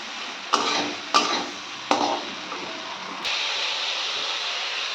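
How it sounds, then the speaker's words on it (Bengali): Potatoes stirred in a pan of hot oil for a Bengali rita fish curry: three sharp scraping clatters in quick succession, then a steady close sizzle and hiss, with no speech. "এবার আলু দিয়ে আর একটু নেড়ে চেড়ে নেবো।"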